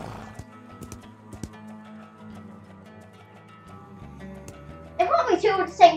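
Horse hooves clip-clop in a western video game, a few sparse thuds over quiet background tones, followed by a brief whinny-like burst near the end, with a person talking over it.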